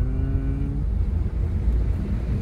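A 2019 Kia Sportage with a 2.0 engine hums with a low, steady drone from inside the cabin while accelerating, a faint rising engine tone early on and road rumble throughout, no talking.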